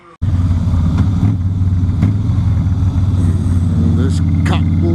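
Motorcycle riding on a public road, heard as a loud, steady engine drone with wind rush that starts abruptly and holds throughout, close and continuous, with a few higher engine notes near the end.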